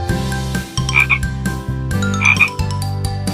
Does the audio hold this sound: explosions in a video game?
no